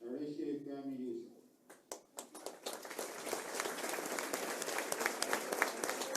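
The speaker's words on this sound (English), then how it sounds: "As you heard there, a round of applause." A burst of applause at a hurling match rises after a quiet moment and keeps going steadily, many hands clapping at once, fairly close and full.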